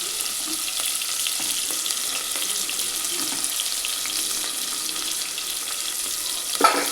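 Onions sizzling and frying in a hot pan for an Indian-style breakfast, a steady bright hiss throughout with a few faint stirring clinks and a brief louder clatter near the end, no talking.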